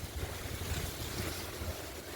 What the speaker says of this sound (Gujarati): વાવાઝોડું પૂગી ગયું છે અમારા ગામમાં.